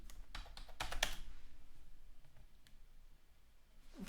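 Quick typing on a computer keyboard enters a password: a short run of close, crisp key clicks, then a few softer scattered taps, with no talking.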